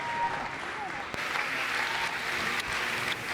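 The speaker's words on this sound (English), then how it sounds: "You can clap, it's okay." Audience in a gym at a girls basketball senior night claps steadily as a broad, moderately distant crowd applause that continues throughout, with a few louder individual claps standing out.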